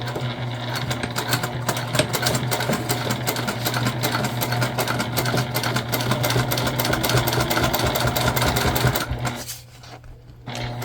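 A sewing machine stitches a tote bag in a steady, continuous whir, close and fairly loud for about nine seconds before it stops, leaving a brief quieter pause near the end.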